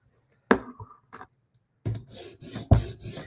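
A knife edge scrubs across a sharpening stone in a few short, quick rasping strokes, close and fairly soft, with a brief pause between the first strokes and the closely spaced later ones.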